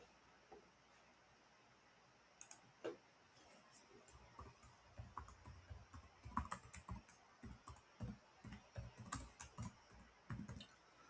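Someone types a project name on a computer keyboard, a quiet, close run of irregular key clicks starting after a couple of seconds and continuing in bursts.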